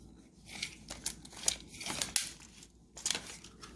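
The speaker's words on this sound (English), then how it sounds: "You got to cut that zip tie off." Close-up crinkling and rustling of plastic with a few sharp snips, as a zip tie is cut off a Walmart Mainstays mini food chopper, in irregular bursts.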